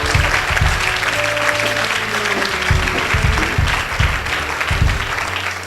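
A church congregation applauding and acclaiming God during a Sunday service, loud sustained clapping and cheering from a crowd filling the whole stretch with rhythmic bursts of hand claps.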